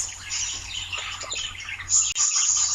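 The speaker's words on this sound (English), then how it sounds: "Between thrills and happy songs, the birds celebrate the coming rain." Birds chirp and sing through a forest, a dense layer of tweets and calls running steadily with a louder burst near the end, over a low background rumble.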